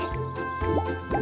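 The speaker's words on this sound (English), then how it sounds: "Peck Peck discovered he can blow bubbles with the net." Cartoon bubbles blown with a net by a little woodpecker come as bright bubbly, wet plops and rising glides, several in quick succession, close and clear with no talking.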